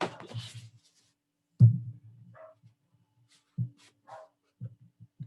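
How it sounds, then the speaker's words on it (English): A dog barks in short, deep bursts, a few separate barks with pauses between, fairly close in an otherwise quiet room. "Sorry about the dog."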